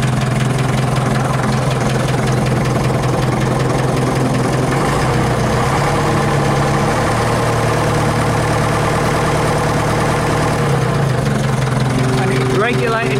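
A 1953 Nuffield DM4 tractor engine idles steadily with a low, even, rhythmic throb, loud and close for the whole stretch, with a slight change in tone near the end.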